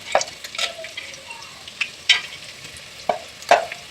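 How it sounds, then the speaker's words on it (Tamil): Garlic and whole biryani spices such as bay leaf, star anise, cloves and cardamom sauté in a pan for chicken biryani, with a soft sizzle broken by several sharp clinks and scrapes of stirring. "பூண்டு போட்டு நல்லா வதக்கணும்"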